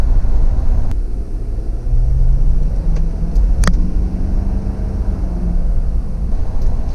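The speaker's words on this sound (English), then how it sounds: "935 pound-feet of torque and 450 horsepower get this thing scooting" A 2019 Ford F-250 Platinum FX4 with the Power Stroke diesel, rated at 450 horsepower and 935 pound-feet of torque, accelerates on the interstate, its low engine note rising in pitch under steady road and wind rumble, with a few faint clicks.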